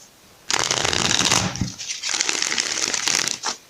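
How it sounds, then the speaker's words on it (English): A deck of oracle cards is shuffled up close for a tarot reading, two brisk riffling bursts with a short pause between them. "let's shuffle one more time"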